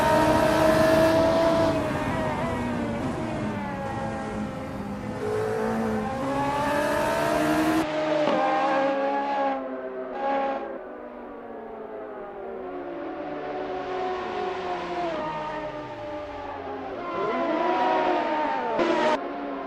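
A Radical SR3 race car in a sim racing game lapping Calabogie Motorsports Park, engine note rising and falling through gear changes with sweeping revs, shifts and deceleration, steady and prominent throughout.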